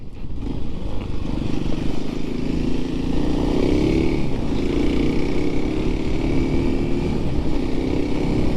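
A small 300cc dirt bike engine runs steadily on muddy trails, a loud, close, continuous drone with slight rises in revs.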